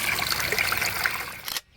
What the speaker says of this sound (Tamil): அப்படியே கிணத்து தண்ணி வந்துக்கிட்டு இருக்குதுங்க.